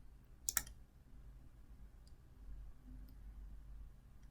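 Single computer mouse click while moving through an import dialog in network analysis software, sharp and close, followed by faint room hum and a couple of tiny ticks.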